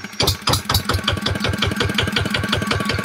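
A Zanma SS 80 engine runs at a steady idle close by, a rapid even chugging pulse that holds level throughout after a brief start, with no voices.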